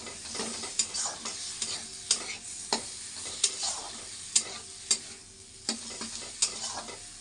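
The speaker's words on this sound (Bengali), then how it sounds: "আলুটা দিয়ে একটু কষ একটু নাড়াচাড়া করে আমি গরম জল দিয়ে দেবো" Potatoes fry in hot oil in a pan while being stirred, a steady sizzle punctuated by sharp, regular scrapes and knocks of the spoon against the pan, close and fairly loud.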